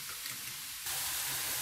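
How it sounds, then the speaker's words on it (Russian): Zucchini strips fry in a pan with a bright, continuous sizzle that jumps abruptly louder partway through the short moment. "Кабачковая соломка жарится очень-очень быстро."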